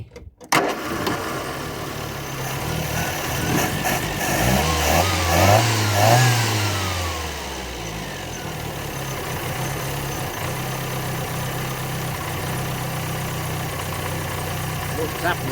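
A Ford Fiesta mk1 engine starts and briefly revs before settling into a steady, rough low-rev idle, loud and close, with a voice speaking over it.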